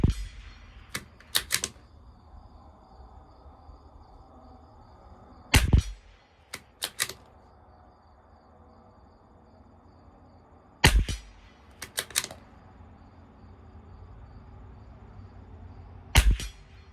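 Tikka T1x rifle in an SK Rifle Match ammo test at 50 yards, firing sharp, loud cracks in small clusters of two or three shots separated by quiet pauses, with no talking.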